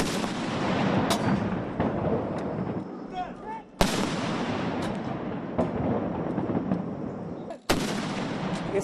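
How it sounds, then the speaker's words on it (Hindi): Booming blasts from a 19-gun artillery salute at Shinzo Abe's state funeral in Tokyo, three sharp loud reports spaced a few seconds apart, each rolling into a long echoing rumble over steady crowd and outdoor ambience. "शिंजो आबे को 19 तोपों की सलामी दी गई"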